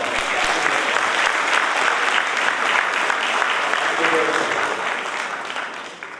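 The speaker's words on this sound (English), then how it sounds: "Please give out another round of applause" A big round of applause from an audience at a Grenadian community gathering in New York, loud and sustained, thinning slightly near the end, with a voice faintly under it.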